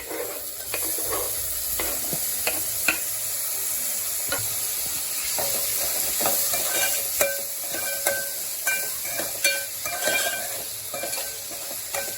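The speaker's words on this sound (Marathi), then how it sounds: "आता मी ह्याच्यामध्ये टोमॅटो चॉप केलेला 1 टोमॅटो टाकते. तो पण छान आपल्याला परतून घ्यायचा आहे" Chopped tomato sautéing in green masala in a pan, a steady close sizzle broken by irregular scraping and stirring clicks of a utensil, with no talking.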